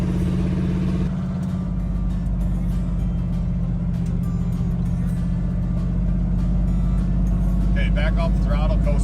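An old farm truck with a manual transmission drives along with a loud, steady engine drone inside the cab, while a person talks over the noise.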